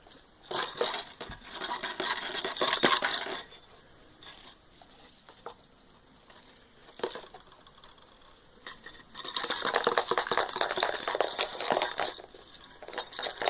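Bursts of dense, gritty rattling, like small beads shaken in a box, come in two loud spells separated by quieter handling clicks.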